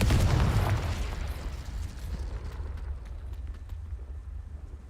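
A Confringo explosion spell bursts in Hogwarts Legacy, a loud booming blast at the start that decays into a lingering rumble.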